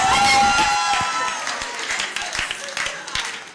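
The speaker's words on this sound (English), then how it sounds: "Clap your hands, Lord." Church congregation clapping hands during a service, loud dense applause fading into scattered claps with voices mixed in.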